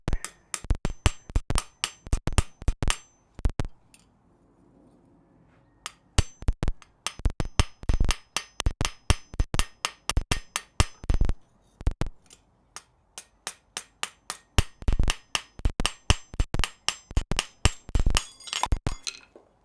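A small hammer taps metal edges in a blacksmith's smithy in quick clusters of sharp, ringing clinks, with a short pause midway before the rapid tapping resumes, close and crisp.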